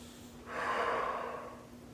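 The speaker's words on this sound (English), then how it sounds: "So I breathe the clean air, the oxygen in through here, and I exhale the carbon dioxide" A single slow breath drawn through a scuba regulator, a soft airy hiss that swells and fades over about a second and a half, close and fairly quiet.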